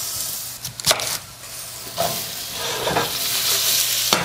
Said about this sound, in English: We're going to go ahead and throw these onto the saute pan.